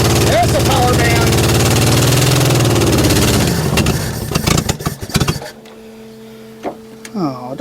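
A 1974 AMC Javelin's engine, revived after sitting 30 years, roars loudly up close, then falters, sputters and dies partway through, leaving voices talking over the quiet that follows.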